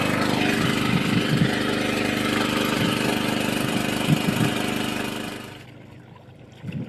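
A small new-model generator engine runs steadily near a water pump's wiring setup outdoors, a continuous mid-pitched engine drone with a pulsing rhythm that drops off sharply near the end, leaving quieter background.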